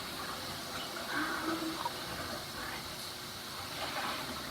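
Tap water running steadily into a cooking pot for Mexican stuffed peppers, a continuous moderate gush with faint splashing, close by and alone with no talk.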